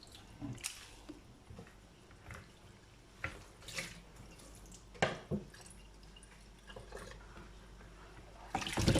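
Washed rice and water being poured from a big pot into another, with intermittent splashes, drips and clinks of grains and pot, close and without talk.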